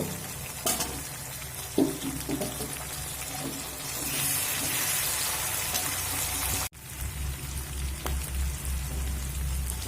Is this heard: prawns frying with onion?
yes